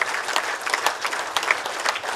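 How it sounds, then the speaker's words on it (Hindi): Crowd at a health and wellness seminar breaking into applause, a thick even wash of hand claps from many people with a few crisp standouts, steady from start to finish. "ये तालियां उनके लिए हैं"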